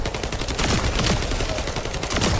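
A sub gun in the game Core Keeper fires in rapid, continuous bursts, loud and dense with overlapping shots and crackle across the whole stretch.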